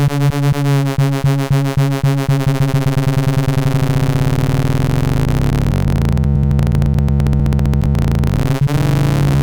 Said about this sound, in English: we're truncating the sine wave of A1 with the silence in B2 to give us a couple of new